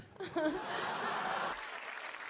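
A small audience claps briefly, a dense patter of applause, with a voice and some chuckling at the start and an abrupt cut near the end.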